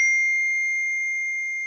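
A phone notification chime rings out as one clear, sustained electronic tone that fades slowly, heard alone in otherwise quiet surroundings.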